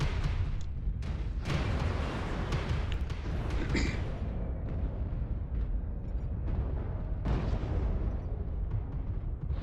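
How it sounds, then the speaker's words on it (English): Artillery strike explosions in the mech combat game MechWarrior Online roll in as a dense, continuous barrage of deep booms and rumbling blasts that fills the whole stretch. "Artillery strike online."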